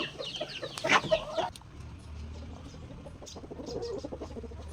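A chicken sick with a respiratory infection gives a loud, harsh, squawking cluck early on, then continues with faint, intermittent clucks and rasps up close.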